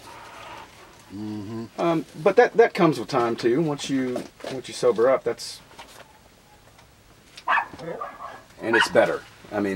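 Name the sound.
dog barking outside, wanting to come in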